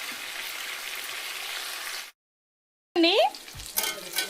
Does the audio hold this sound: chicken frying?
yes